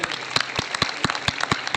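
Applause at a Haryana political gathering welcoming a speaker, sparse and fairly close claps at a loose, uneven rhythm rather than a dense ovation.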